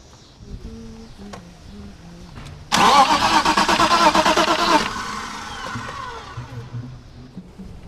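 A BMW 325is that has trouble starting cranks and catches, giving a loud two-second burst of rapid starter chatter and engine roar up close, then settling into a rougher, quieter running rumble.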